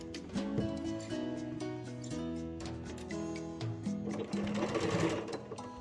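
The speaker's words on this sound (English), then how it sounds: "so let's back stitch" A sewing machine back stitches the seam of a fabric iPad or book pouch, its needle running in fast steady bursts that pause and restart, close up and loud against a quiet room.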